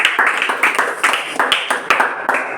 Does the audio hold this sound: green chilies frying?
no